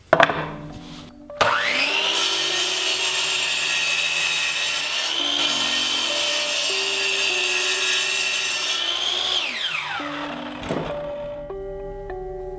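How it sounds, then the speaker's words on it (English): A power saw set about 5 degrees for angled miter cuts spins up and cuts through the wooden head of a mallet in one long, steady, loud whine lasting several seconds, then winds down with a ringing tail. "I've adjusted my saw about 5 degrees so that I have a little bit of a taper on"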